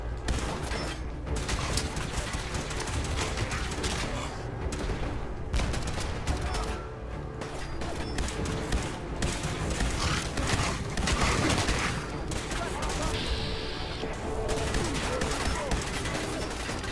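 Weapon fire in Fallout 4: dense, continuous rapid gunfire with overlapping shots and impacts filling the whole stretch, loud and close, with a brief lull near the middle.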